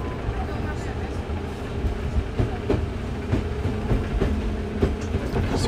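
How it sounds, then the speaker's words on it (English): A train in Japan runs along the rails, its steady rolling rumble broken by repeated clicking clacks from the wheels as it passes over track joints, heard from on board with a person talking over it. "These are the trains we're on"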